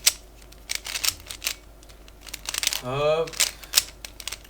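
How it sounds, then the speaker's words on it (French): A 3x3 Rubik's cube is scrambled by hand, a quick run of dry plastic clicks and rattles, close and fairly soft, with someone speaking French over part of it. "On peut tout de suite mélanger notre cube."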